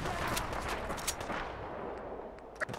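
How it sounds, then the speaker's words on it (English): Glock 19X pistol fire from enemies in Fallout 4 comes as faint, somewhat distant cracks over a hissing noise bed, several quick shots early, then sparse shots fading toward the end. "they are shooting at me with a Glock 19X"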